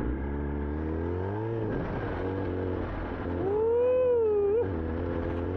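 A big motorcycle engine rumbles at idle, then revs up in a rising, whining sweep before dropping back, loud and close throughout with no talk.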